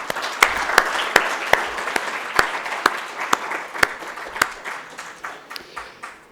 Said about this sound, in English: So I hope you all join me in giving them a big round of applause.